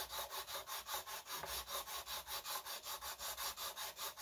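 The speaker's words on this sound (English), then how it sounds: "I'm gonna 400 grit that down there because I just can't" Fine sandpaper, 400 grit, worked back and forth over guitar frets, a steady rapid rhythm of about four strokes per second, close and clear with no talk.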